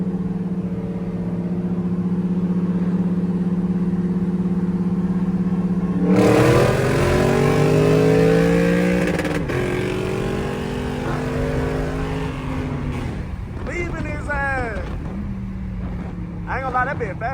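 A 500 hp Dodge Scat Pack and a 472 hp Lexus RC F accelerating hard in traffic, engine drone rising from a steady hum into climbing revving sweeps, heard from inside the car while people talk.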